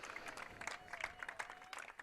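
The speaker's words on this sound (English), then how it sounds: "As the crowd will applaud Sealer for his great feat of 50 goals." Spectators applaud at a high school boys soccer game, with scattered clapping from a modest crowd heard faintly at a distance while an announcer's voice speaks over it.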